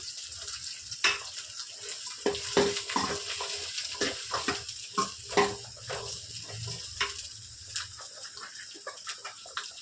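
Chopped garlic tossed into hot oil with sambar onions, sizzling steadily with scattered sharp clinks and scrapes of a spoon against the pan, all close by.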